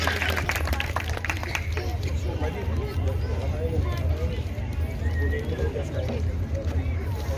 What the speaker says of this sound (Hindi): सारे लोग तालियां बजाएंगे, उनका स्वागत करेंगे